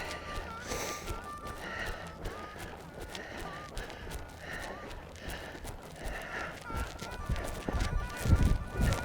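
A horse under saddle canters to the right, its hoofbeats landing in a steady three-beat rhythm with snorting breaths, growing louder near the end, while a rider speaks over it now and then.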